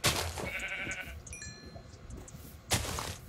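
Sheep bleating in the Minecraft Feed The Beast modpack, a few short nasal bleats in the middle of the clip between louder bursts of game noise, fairly close and moderately loud.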